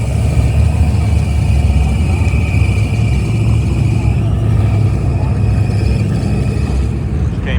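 A boosted Ratson drag car at a drag strip during a Sick Week event, heard as a loud, constant rumbling engine roar that continues unbroken for several seconds.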